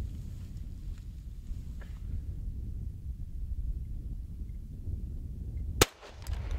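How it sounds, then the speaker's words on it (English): A single sharp gunshot from a .45 Super handgun firing 255 grain Underwood ammunition cracks out near the end, following several seconds of low outdoor rumble and wind. "we're gonna shoot the 45 Super. I got the 255 grain Underwood ammo in there"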